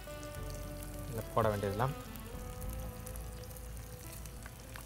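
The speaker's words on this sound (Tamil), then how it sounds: "அந்த தூதுவளை இலைகளை சார் போட்டிருக்காங்க. வதங்கிடுச்சு." Thuthuvalai leaves sauté in a hot pan with a steady, low sizzle throughout, while someone speaks briefly over it in Tamil.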